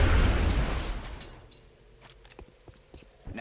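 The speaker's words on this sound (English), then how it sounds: "Now toss your grenade at the enemy in front of you." A frag grenade detonating in XCOM: Enemy Within, one loud close boom that fades into a rumbling tail, followed by scattered small clicks and footsteps.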